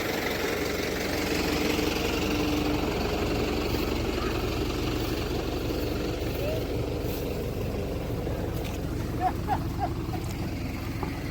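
A tractor engine idles with a steady low rumble while a fallen tree is cleared from a road, fairly faint and continuous, with some voices and a few light knocks in the background.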